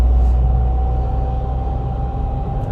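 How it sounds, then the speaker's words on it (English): Steady low engine drone with a faint whine inside a Maruti S-Presso VXI CNG cruising in fourth gear around 55, heard from the cabin with the AC off, continuous and moderately loud. "You can also hear some sound, engine sound inside the car."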